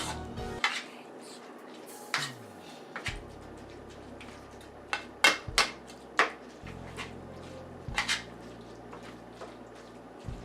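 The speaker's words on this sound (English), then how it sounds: "I'm using the back of the spoon to kind of rub the powdered seasoning in." A metal spoon works powdered seasoning into taco meat in a cooking pan, giving close, irregular clinks, scrapes and soft squishy taps over a low steady hum.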